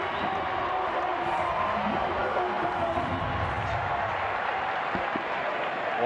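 A large crowd at a cricket match roars in a continuous, dense wall of cheering and clapping, loud and sustained without a break, with scattered shouts rising above the din.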